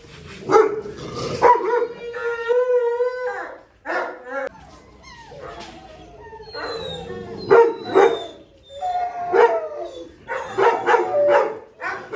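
Bully breed puppies barking, howling and whimpering in excited bursts, close by, with a person talking between and over the noise.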